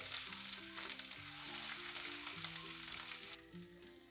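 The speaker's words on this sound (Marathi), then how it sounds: "याला आपल्याला तेलात छान असा परतवून घ्यायचा आहे।" Chili, garlic and coriander paste sizzles steadily in hot oil, a dense close frying hiss running throughout with a soft musical tone underneath and a brief drop in intensity near the end.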